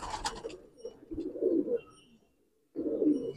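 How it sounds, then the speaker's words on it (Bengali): Pigeons in a loft coo in low, throaty bursts, two main rolling phrases separated by a brief quiet gap, with faint higher chirps at the start, close by and with no talk. "কিছু পায়রা এখান থেকে দেখিয়ে দিচ্ছি আপনাদের"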